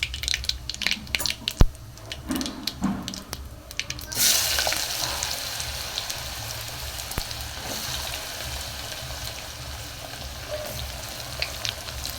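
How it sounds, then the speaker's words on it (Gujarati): Rice tempered in hot oil sizzles steadily for about eight seconds, a loud hiss that breaks out at once after a few scattered clatters and then runs on without pause. Nobody speaks. "અને હું ભાતને વઘાર કરી લઉં"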